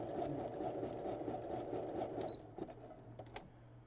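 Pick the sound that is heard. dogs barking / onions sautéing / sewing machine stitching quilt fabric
sewing machine stitching quilt fabric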